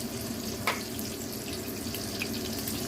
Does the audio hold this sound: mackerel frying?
yes